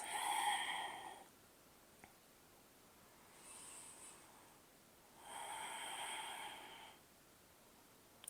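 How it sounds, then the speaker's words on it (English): Slow, deep breaths during a gentle yoga flow, two soft drawn-out cycles of airy inhale and exhale with a quiet pause between, close and faint in a hushed room. "Just a few deep breaths."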